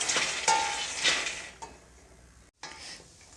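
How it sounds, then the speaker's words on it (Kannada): Peanuts roasting dry in a pan are stirred with light scraping and gritty rustling, a few sharper scrapes early on, then a quieter stretch with a brief gap before the stirring resumes. "ನಮಗೆ ಇದು ಶೇಂಗಾ ಹುರಿದಿದೆ"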